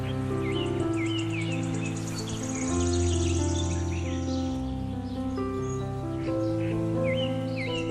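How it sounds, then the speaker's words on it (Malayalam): Birds chirp and call repeatedly in a quiet, green spot near a small waterfall in Thiruvananthapuram, with no traffic noise. Scattered calls ring out over a steady low background hum. "കിളികളുടെയൊക്കെ ശബ്ദം മാത്രമേ ഉള്ളൂ ഈ ഒരു സ്ഥലത്ത്"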